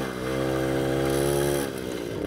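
A brand-new Soviet Riga Mini RMZ-30 moped engine runs close by, a steady buzzing two-stroke drone that holds even, then dips slightly as the revs drop near the end.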